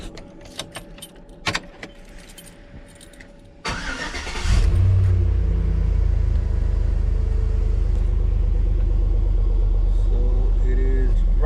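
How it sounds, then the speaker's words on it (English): Keys jangle and click before a Chevrolet Silverado truck with an alternator overcharging fault cranks and starts, then settles into a loud, steady idle rumble that continues to the end. "Now let's go inside and turn on the truck, see where the voltage is at."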